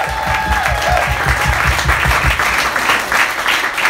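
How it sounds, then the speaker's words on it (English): Meetup audience applause for Katie on Giving Tuesday, a dense, loud burst of clapping throughout, with a low rhythmic thumping underneath. "Let's give Katie a round of applause"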